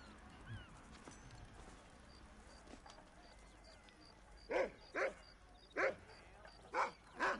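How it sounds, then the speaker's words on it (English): Dogs in the Red Dead Redemption game world bark in a run of five loud, sharp barks in the second half, following a quieter stretch of ambient outdoor noise with faint calls. "Local dogs are up to no good."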